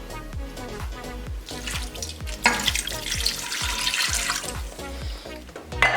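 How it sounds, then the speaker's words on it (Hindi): Water is poured into a hot pan of spiced bhuna mutton, setting off loud crackling sizzle and bubbling that swells midway and keeps hissing steadily. "पानी ऐड करेंगे 2 छोटे गिलास।"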